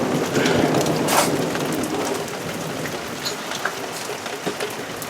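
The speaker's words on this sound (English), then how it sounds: "that's the closest I've ever been to lightning" Steady rain pours down right after a close lightning strike, with a broad rumble of thunder swelling near the start and slowly fading beneath the continuous downpour.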